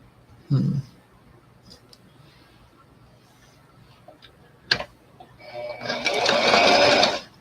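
A sewing machine stitching lace onto an antique-style doll underskirt, running in a loud steady burst near the end after quiet handling clicks and a brief low voice.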